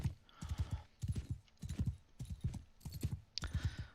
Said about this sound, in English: Slow ass sumpter horse.